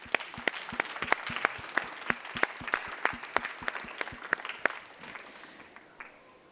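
A conference audience applauds panelists steadily with sharp, dense clapping, then the applause thins and fades toward the end.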